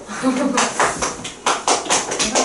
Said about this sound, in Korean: 북한 박수